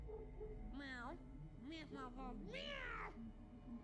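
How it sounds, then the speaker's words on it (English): A cat in the Vampire Bloodlines 2 video game gives several drawn-out meows in quick succession, close and clear over a low background hum. "Give me some wisdom, little cat buddy"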